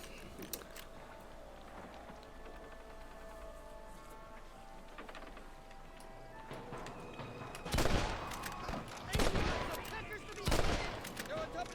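Gunfire in Red Dead Redemption, a quiet ambient stretch giving way to several loud, close shots and bursts clustered near the end, with crackling debris in between.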